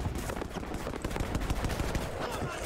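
Automatic gunfire and rapid shots crackle through a Battlefield 5 match, dense and continuous for a few seconds with a voice talking over the shooting.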